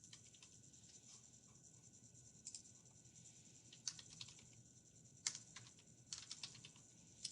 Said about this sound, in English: So what I'm going to do is I'm going to go ahead and type it.